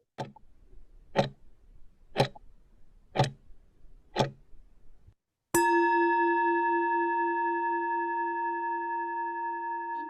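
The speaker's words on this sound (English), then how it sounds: "when you hear the bell, then we'll come back" A bell rings once, loud and near, sustaining a long ringing tone as it slowly fades, after five evenly spaced tick-like knocks, marking the end of a break in a talk on the four ultimate realities.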